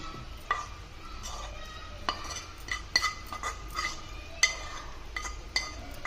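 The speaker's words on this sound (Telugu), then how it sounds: "ఇందులో వంకాయ ముక్కలు వేస్తున్నా ఫ్రై చేసుకున్న ఇగో టమాటా ముక్కలు కూడా ఇందులో వేస్తున్నా" Fried brinjal and tomato pieces go into a pan for Telangana chutney, with scattered metal clinks and spoon taps against the pan over a faint background hiss; no one talks.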